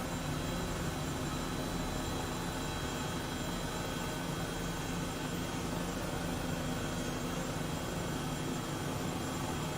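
An Airbus H135 helicopter in Microsoft Flight Simulator turns over for takeoff near San Francisco, a steady, dense turbine whine and rotor roar held at constant loudness, close and alone with no talking.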